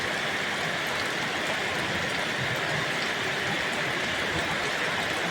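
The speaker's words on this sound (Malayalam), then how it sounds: "കോഴിക്കോട് നല്ല മഴയും ഇടിയും മിന്നലും" Heavy rain in Kozhikode, a dense, steady hiss of downpour that stays even and unbroken, with no distinct thunderclap standing out.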